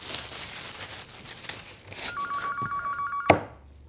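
A telephone in a family home rings with a steady electronic trill for about a second, loud and clear over faint room noise, then stops with a sharp clunk as the receiver is picked up.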